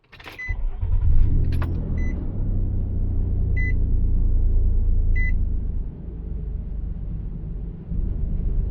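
A truck engine turns over and settles into a low, steady idle, with a few short electronic beeps sounding above it from an add-on dash unit.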